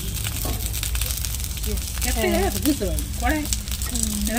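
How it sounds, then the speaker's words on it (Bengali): Cauliflower pieces fry in hot oil in a pan, a steady close sizzle with crackling under a person's speech. "ফুলকপিগুলো ভাজা হয়ে গেছে, এবার তুলে নেব।"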